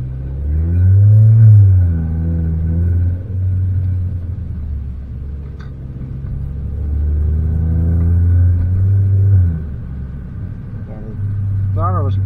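A car engine with an upgraded throttle body revs up and settles in low rumbling swells heard from inside the car, several rises and falls across the clip.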